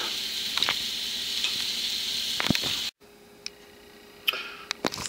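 A pot of beef and vegetable barley soup simmering in vegetable juice and beef stock hisses steadily with scattered pops, then after a brief cut continues more quietly with occasional ticking bubbles.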